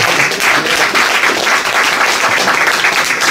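A loud, steady round of audience applause at a community gathering, dense clapping that stays continuous and close, with no speech over it.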